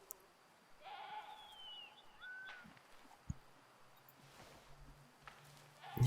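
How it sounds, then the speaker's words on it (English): Feral goats bleat in the Way of the Hunter hunting game's Matariki Park, two or three wavering calls at moderate distance over quiet outdoor ambience, followed by a few soft thuds and steps. "just feral goats"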